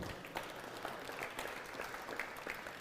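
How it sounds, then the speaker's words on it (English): Steady audience applause at a Rotary sports awards night, a dense, even patter of many hands clapping at moderate distance, fairly faint and continuous throughout. "we'll clap for him"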